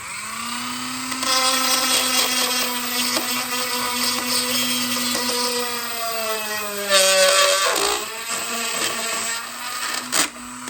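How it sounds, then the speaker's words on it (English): A high-pitched whining rotary tool fitted with a chainsaw-sharpening grinding bit runs steadily, its pitch dipping and sliding under load, with brief scraping bursts of grinding. "I'm putting in a grinding bit that I use for sharpening my chainsaw blades"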